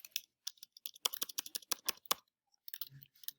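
Rapid computer keyboard typing and mouse clicking while editing axis titles on a chart, a close, crisp run of irregular clicks with brief pauses, no talk.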